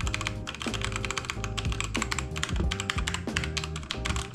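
Fast, continuous typing on a Yunzii YZ75 wireless mechanical keyboard fitted with Head switches, with dense clacky keystrokes close up and rhythmic heavier thocks, loud and alone.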